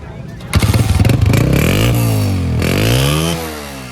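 A 2016-model motorcycle at Karachi's Hyderi bike market starts and revs, the engine roaring up in a loud, close burst, settling, then climbing again with rising pitch over a rough idle.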